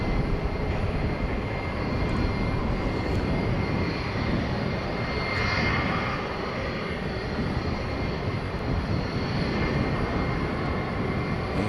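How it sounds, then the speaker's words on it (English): A UPS Boeing 757 jet at DFW airport at night gives off a steady, loud, broad engine roar that stays level throughout with a faint high whine above it. "A 757 it is, staring right at us."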